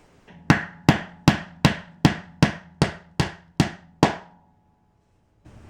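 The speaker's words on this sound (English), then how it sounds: "hammer in the other 6 into these 6 holes" Wooden dowels are hammered into a Bestar wall bed board, ten sharp, evenly spaced hammer strikes close up, followed by a brief quiet.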